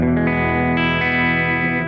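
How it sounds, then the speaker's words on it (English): A sustained electric guitar chord rings out through a Boss OD-20 pedal's clean tone, clean and steady with a slight shimmer, played alone with no voices. "So here's the clean tone"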